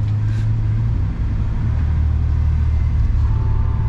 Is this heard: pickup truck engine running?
yes